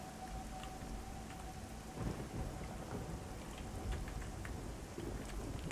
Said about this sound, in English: and just sitting in the rain and loving it.